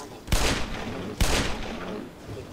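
Two sharp gunshots in Black Mesa, spaced about a second apart, each a loud close crack with a short ringing decay.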